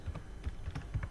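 Keys tapped on a computer keyboard while entering text in Microsoft Word, a quick run of soft, close clicks with an uneven rhythm and no voices.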